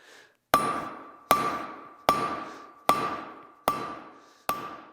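A hammer strikes pure silver on an anvil to draw out a knife blade, six loud ringing blows at an even, unhurried pace, each ring fading before the next, with no talk.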